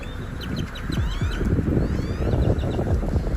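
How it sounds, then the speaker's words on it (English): A dense flock of thousands of grackles chattering at once in a Houston parking lot, with overlapping squeaks, rattles and whistles forming a loud, continuous din. "Thousands of blackbirds took over a parking lot in Houston."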